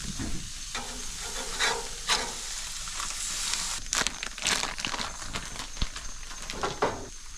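Burgers topped with cheese sizzle steadily on a grill, with scraping and clattering spatula flips breaking through the hiss at close range.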